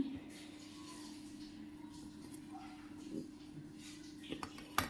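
Metal boxes and the lid of a stacked tiffin food carrier clink and knock quietly against each other, with a few soft taps and a sharper clink at the end over a low background hum.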